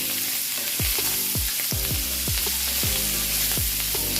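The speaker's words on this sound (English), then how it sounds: "We got a good fry going on right now, guys." Loud, steady sizzling of bacon and sausage frying in a pan, with a series of soft low thumps recurring about twice a second.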